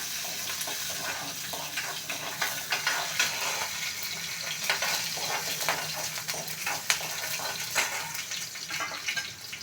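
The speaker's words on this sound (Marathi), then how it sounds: "लसूण कढीपत्ता घालून घेऊ आणि हे चांगलं फ्राय करून घेतलं आहे" Garlic, green chilli and curry leaves fry in a pan for a buttermilk kadhi, making a continuous hissing sizzle with scattered crackles and stirring clicks, with no voices.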